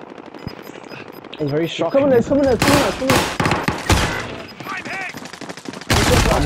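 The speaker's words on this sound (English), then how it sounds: "I'm taking heavy fire here!" Rapid automatic gunfire bursts crackle through a Call of Duty: Modern Warfare firefight, loud and close, with players talking excitedly over the shots.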